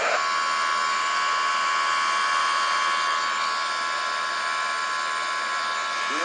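Airbus A330 engines at full takeoff power in Microsoft Flight Simulator, a steady, loud, bright turbine whine and roar that holds evenly throughout with no talk.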